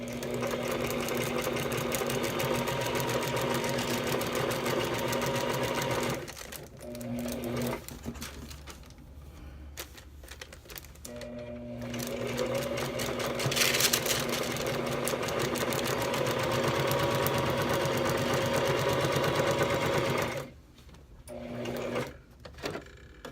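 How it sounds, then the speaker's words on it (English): A sewing machine stitches across fabric with a steady, rapid mechanical whir and chatter close by, pausing briefly a few times before running again. "And we're going to sew across,"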